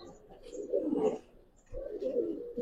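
A female Giribaz pigeon gives two low, throaty coos a short pause apart, close and moderately loud against a quiet background.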